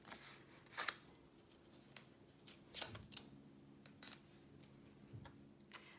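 Several crisp scissor snips cut design paper into squares at irregular intervals, close up in a quiet room, with no talking.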